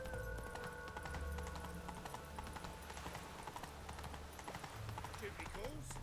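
Hooves of a galloping horse clip-clop steadily in The Witcher 3, a rapid rhythm beneath faint game music and ambience, with a voice briefly speaking over it.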